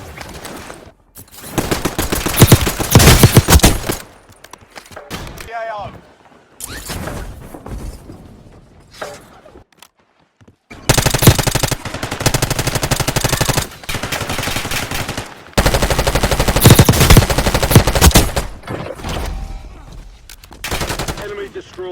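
Rapid automatic gunfire rings out in the Warzone Mobile video game on Rebirth Island, loud sustained bursts separated by short quiet gaps, with brief game voice announcements in between.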